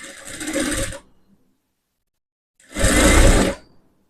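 Sewing machine stitching a blouse in two bursts of fast whirring, each about a second long, separated by a silent pause, close and loud.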